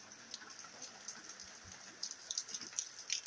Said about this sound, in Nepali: यस्तो ठुलो पानी परेको छ।